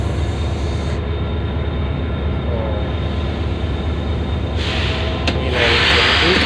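Pakistan Railways 13 Up Awam Express train rumbles loudly and steadily nearby, a continuous heavy rolling roar of the locomotive and carriages that swells slightly toward the end.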